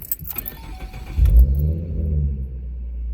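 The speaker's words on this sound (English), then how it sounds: "just so you can hear how the Roush exhaust sound" A car fitted with a Roush exhaust rumbles at close range, then swells into a deep, heavy rev about a second in and holds a steady throaty drone.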